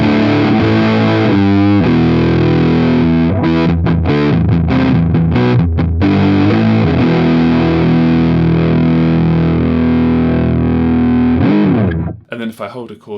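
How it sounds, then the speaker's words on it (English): Electric guitar through an EHX Russian Big Muff reissue fuzz with the tone knob turned fully down, thick dark saturated chords and riffs sustaining loudly with brief choppy stabs, cutting off abruptly near the end. "let's put it all the way down and see what that sounds like"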